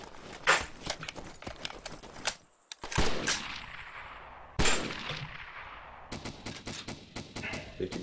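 Gunfire in DayZ crackles as repeated sharp shots and short bursts, loud and fairly close, broken by brief silences and resuming in rapid volleys.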